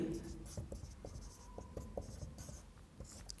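Pen strokes scratch on paper while equations are written out in a maths lesson, a series of short, soft scribbling taps and scrapes, close and quiet, with low talk around them.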